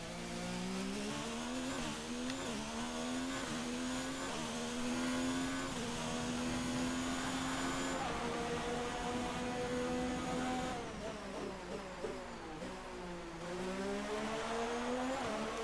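A Ferrari Formula 1 car in the F1 2019 racing game, heard from the cockpit camera at the Austrian Grand Prix: a buzzing, high-revving engine rising and dropping through gear changes, continuous and moderately loud, with no talking.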